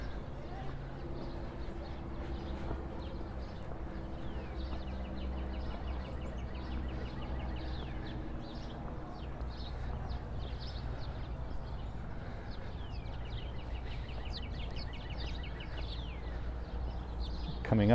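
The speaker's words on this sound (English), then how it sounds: "Oh, you can really hear all the birds." Birds chirp and sing faintly in Central Park, New York, on a March spring day. Scattered calls are heard under a steady city background and people talking.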